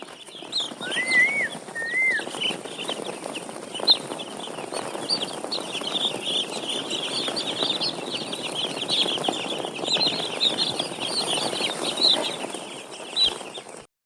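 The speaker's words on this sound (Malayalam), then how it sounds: "ഇവിടെയുണ്ട് കുറേ കോഴിക്കുഞ്ഞുങ്ങൾ." A crowd of chicks chirping constantly in a poultry farm shed with automatic drinkers, dense high peeps overlapping over a soft background rustle, without voices.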